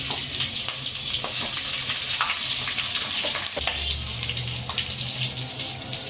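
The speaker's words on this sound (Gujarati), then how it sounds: "આ રીતના મરચાં તેલમાં મૂકી દેશું. એટલા મરચાં તેલમાં સામે એટલા જ મરચાં નાખીશું." Stuffed green chillies fry in oil over low heat with a close, steady sizzle and light crackling pops. A brief low rumble breaks in midway, and there is no talking.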